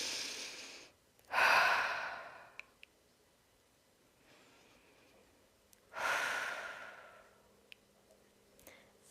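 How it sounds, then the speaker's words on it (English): Two slow, deep breaths during a guided breathing exercise, each a loud airy inhale-exhale rush a few seconds apart, close to the microphone with quiet pauses between. "let's take a few deep breaths together. Just big breaths through the body."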